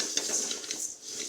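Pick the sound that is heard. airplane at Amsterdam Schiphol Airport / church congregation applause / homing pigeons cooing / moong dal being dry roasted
moong dal being dry roasted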